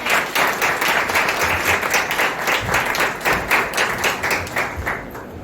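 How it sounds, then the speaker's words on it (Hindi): A congregation at a worship service gives loud, sustained applause, many hands clapping densely and steadily near and far, tapering slightly at the end. "जोरदार ताली प्रभु के लिए"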